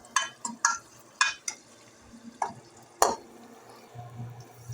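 Potatoes being added and stirred in a hot spiced pan with turmeric, chili powder and cinnamon, giving a few sharp scraping clatters and a soft sizzle, fairly quiet and with no voices.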